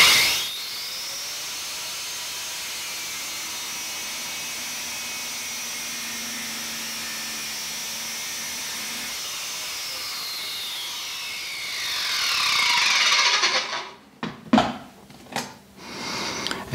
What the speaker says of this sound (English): you want to make sure that you cut perpendicular to the shaft's direction